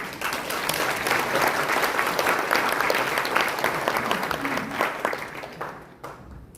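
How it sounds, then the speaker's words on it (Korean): At a provincial briefing event, a hall audience gives sustained, lively applause with crisp individual claps. The applause tapers off near the end, leaving a few scattered last claps. "우리 경상북도 K과학자 1호 부대 박수 한번 보내주십니다."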